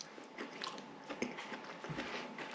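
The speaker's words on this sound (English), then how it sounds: "Nice crunch to that squid." Crispy fried squid rings seasoned with cayenne are bitten and chewed close to the mic, giving a quick run of soft crunches and wet chewing with no talk.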